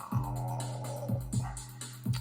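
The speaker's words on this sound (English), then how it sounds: "playing that dirty bass line sound you can hear" A gritty, distorted synth bass from an Access Virus, sequenced by an Elektron Digitakt, holds low sustained notes, with short punchy hits recurring every half second or so, moderately loud and alone.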